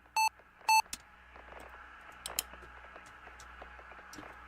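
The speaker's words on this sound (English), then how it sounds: "here's what the alarm sounds like" An oxygen alarm in an astronaut training capsule sounds two short, sharp electronic beeps in quick succession, followed by a faint hum and hiss of the capsule.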